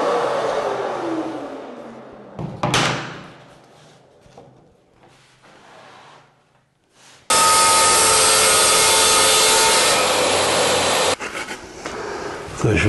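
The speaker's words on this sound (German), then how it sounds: "machen wir jetzt erstmal einen Probeschnitt, dass wir die Tiefe genau einstellen können" A saw makes a test cut into a 3 mm shower wall panel, with a sustained loud, close cutting roar for several seconds, preceded by scraping and handling noises and someone speaking.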